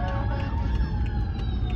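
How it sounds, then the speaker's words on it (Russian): Police car and fire truck sirens wail continuously as emergency vehicles pass by, rising and falling tones layered over steady traffic rumble, fairly loud and close. "Вот не зря один коп проехал, одна пожарная проехала в другую сторону."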